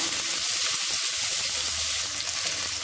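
Onions sautéing in oil in a pan for chicken gravy give a steady, close hiss and crackle that holds evenly throughout, with no voices.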